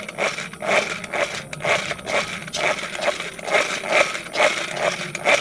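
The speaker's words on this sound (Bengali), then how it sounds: "ডিমটাকে একটু ভালো করে ফাটিয়ে নেব" Egg is beaten with a hand beater in a bowl, a fast rhythmic scraping and clattering that repeats evenly at close range, with no talking.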